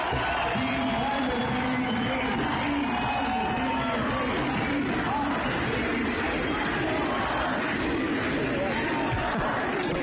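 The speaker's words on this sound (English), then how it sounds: "They do a defund the CBC chant" Crowd at an anti-CBC political rally chanting "defund the CBC" in a steady, rhythmic group chant, loud and sustained with mixed voices and cheers throughout.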